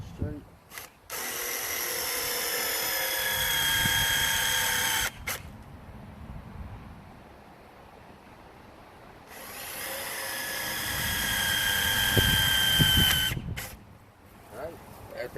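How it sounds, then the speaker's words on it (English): A power drill bores screw countersink holes in scrap wood during bench building, with two sustained whining bursts of several seconds each. Quieter handling noise falls between them. "I want to go ahead and put a screw countersink hole right here."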